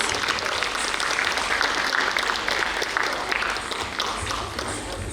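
An audience at a college arts fest claps loudly and continuously after a stage performance, a dense wash of applause lasting the whole stretch with a faint crowd murmur beneath.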